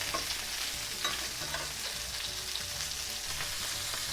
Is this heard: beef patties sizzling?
yes